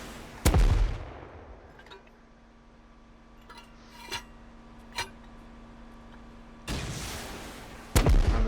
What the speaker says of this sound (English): just a handful of rockets and we're good to go